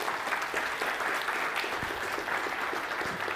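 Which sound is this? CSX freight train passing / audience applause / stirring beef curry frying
audience applause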